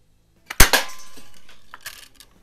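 A vintage Daisy Buck Jones special model 107 air gun fires one sharp, loud shot, followed by a ringing metallic decay and a few faint rattles.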